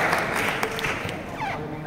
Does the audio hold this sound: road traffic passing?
no